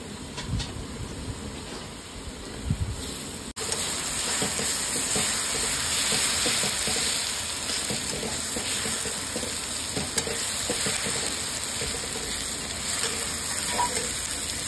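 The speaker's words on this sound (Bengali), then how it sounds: "পেঁয়াজটা ভাজা হোক" Onions frying in oil hiss loudly and evenly. A clear break comes early on, then a dense, constant sizzle with faint stirring underneath continues to the end.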